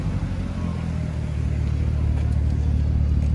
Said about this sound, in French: la fameuse, la Ferrari bleue